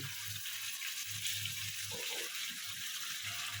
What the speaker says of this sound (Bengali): এবার আমি এটাতে একটু জল দেবো, গরম জল, বেশি না